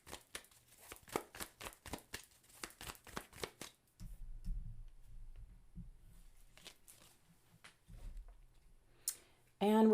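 Tarot cards riffle in a quick run of crisp, close snaps, then give way to quieter scattered taps and slides of cards being handled against a low hum.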